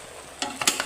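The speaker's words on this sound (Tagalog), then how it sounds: "Haluin lang natin." Chicken with chili garlic frying in a pan as it is stirred, a low steady sizzle broken by a few quick scraping strokes near the end.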